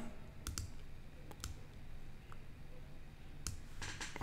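A few quiet computer mouse clicks, single sharp ticks spaced irregularly against a faint room hum, close and soft.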